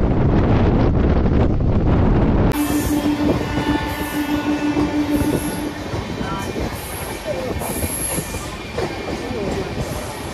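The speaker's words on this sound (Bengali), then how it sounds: "বন্ধুরা, 6:48 এখন আমাদের ট্রেন ছাড়লো হাওড়ার উদ্দেশ্যে।" Panskura-Howrah local train pulling away from Deuti station, a steady rolling rumble of wheels and carriages with a sustained wheel squeal and heavy wind buffeting the microphone throughout.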